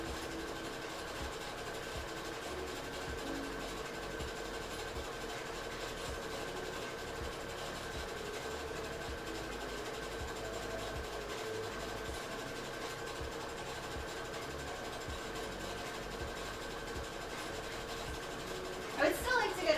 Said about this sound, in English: we're doing our locking stitch now to the edge, and then this skirt will be done for sewing.